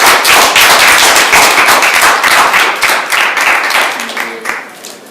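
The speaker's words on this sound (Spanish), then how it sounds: "Un aplauso para él, por favor" An audience at a book presentation bursts into loud, dense applause, which holds strong for a few seconds and then thins and fades toward the end.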